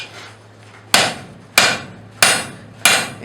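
Four loud, ringing metallic hammer blows on hot metal on an anvil, struck at a steady pace, each sharp impact decaying quickly before the next.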